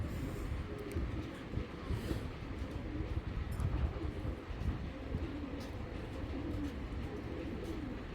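A large pigeon coos in a loft of collected pigeons, soft repeated low calls over a rumbling background, with no talking.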